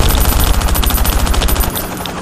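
Gunfire aimed at a helicopter in the survival video game Last Day Rules Survival, a loud rapid automatic burst of closely spaced shots that stops abruptly near the end, heard alone with no talk.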